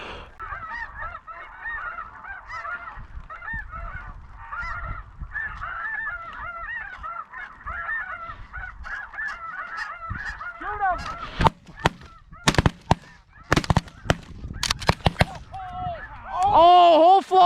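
A flock of geese honks continuously during a hunt in Alberta, the calls overlapping and fairly distant, then a series of loud, sharp shotgun blasts from a Remington 870 cut through, followed by closer honking.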